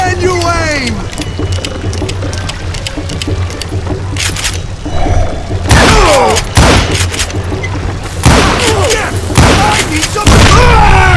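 Gunfire from a Wild West shootout in the video game Call of Juarez Gunslinger, a run of loud booming shots in clusters toward the end, heavy and close, with voices shouting over the fight.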